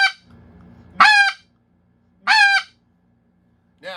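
Two sharp single barks blown on a snow goose call, each a short nasal honk with a brief pause between, close and loud, with a third starting at the very end.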